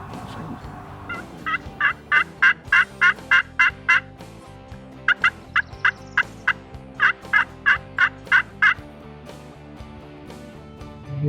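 A wild turkey gobbler gobbles outdoors in repeated bursts of rapid, rattling calls, loud and clear over a low background hum, with several gobble series spaced across the stretch.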